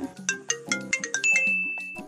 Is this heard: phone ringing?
yes